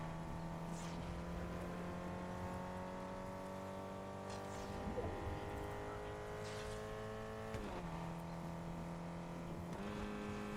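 A car in the Fortnite video game drives steadily with a sustained engine drone and shifting pitch, dropping briefly around gear changes, heard alone without talk.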